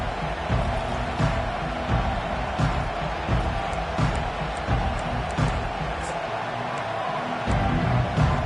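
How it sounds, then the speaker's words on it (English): A football stadium crowd at an Oregon Ducks game roars continuously, a dense loud wash of cheering and yelling with scattered whoops and thuds lasting the whole stretch. "This crowd, full throat, spreading the eardrums and letting them know it's going to be a long day."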